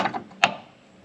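A 1998 Dynaweld trailer winch drum is let go to free spool, giving a few quick mechanical clicks and then one sharp metallic clank, close and fairly loud, that rings briefly and fades, with no talk.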